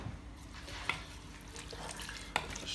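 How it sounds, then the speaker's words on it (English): Soft scraping and stirring in a one-pot beef curry with chili sauce and beef stock, quiet and close, with two faint clinks of the spoon against the pot. "stir that around"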